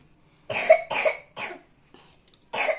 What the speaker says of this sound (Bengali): ওর এত কাশি হচ্ছে